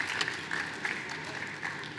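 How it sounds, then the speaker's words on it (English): Audience applause follows an AIBC Eurasia 2023 startup pitch, a steady patter of many hands clapping at moderate distance, with a few brighter bursts and a voice briefly over it. "Big round of applause for 𝐕𝐸𝐲."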